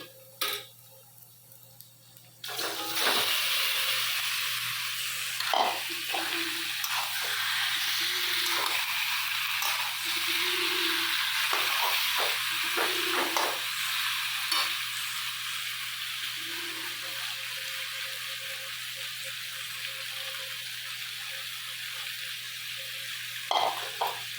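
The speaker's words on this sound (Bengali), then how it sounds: "এবার চিকেনটাকে আমি মাখিয়ে রেখেছিলাম মশলা দিয়ে, এই যে এবার এর মধ্যে ঢেলে দিচ্ছি" Spice-marinated chicken goes into a pan of fried onions and sizzles with a steady broadband hiss from about three seconds on, punctuated by brief scraping and clattering of a utensil against the pan.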